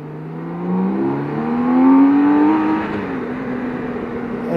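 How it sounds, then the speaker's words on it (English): A 2023 BMW K1600 motorcycle's engine revving with prominent exhaust and intake sound, a loud smooth whine rising in pitch and swelling around the middle before easing off, with no talking over it. "the exhaust and the intake sound in this is way more prominent than mine"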